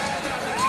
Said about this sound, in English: You hear the crowd because she's back on her feet.